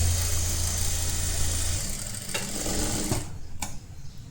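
A sewing machine stitches a netted blouse in one steady, close, humming run of a few seconds, then stops, leaving a couple of faint clicks.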